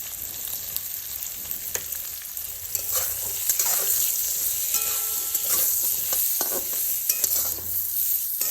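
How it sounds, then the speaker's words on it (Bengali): Eggplant frying in a pan with salt and turmeric, a steady close sizzle with scraping stirs and a few clacks throughout, no voices. "এই দেখুন, বেগুনটা ভাজা হয়ে গেছে"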